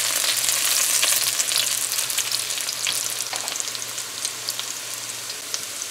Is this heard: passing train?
no